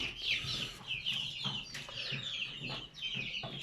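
Chickens cluck in rapid, scratchy bursts close by, the calls overlapping continuously over soft background rustle.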